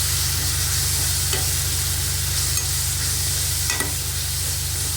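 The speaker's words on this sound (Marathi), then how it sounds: "ते वाटण याच्यामध्ये घालून आपल्याला व्यवस्थित परतून घ्यायचं आहे" A ground paste of ginger, garlic, green chili, coriander, black pepper and clove sautéing in a pan for veg pulao, giving a loud, continuous close-up sizzle broken by a few scrapes of stirring.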